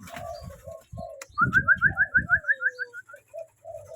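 Pigeons cooing close by, a run of deep rhythmic throaty coos pulsing steadily, mixed with a higher trilling call rising over them, loud and clear with no talk.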